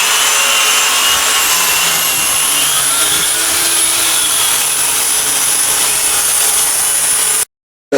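A Ford axle being cleaned with a power tool, giving a steady, loud abrasive grinding hiss that runs continuously for several seconds and then cuts off abruptly.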